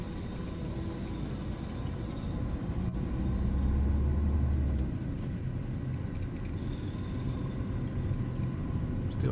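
A manual car creeps slowly in first gear through town traffic under a 20 mph limit, its engine giving a low, steady rumble close by, swelling briefly partway through before settling back to an even idle-like drone.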